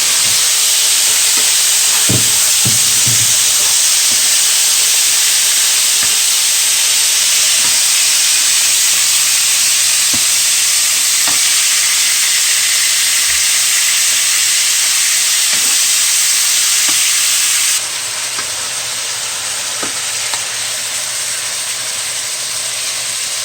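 Pork for a Dominican locrio sizzling hard in a hot pot, a loud steady hiss with a few knocks early on, dropping to a slightly quieter sizzle near the end.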